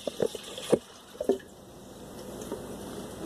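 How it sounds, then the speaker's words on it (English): Apple juice poured into a deep saucepan, a few splashy glugs and drips at the start followed by a softer, steady liquid trickle, close by in a kitchen. "So we'll put the juice in the pan"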